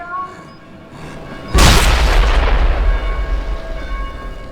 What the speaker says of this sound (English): it is going to explode when it gets stuck in the zombie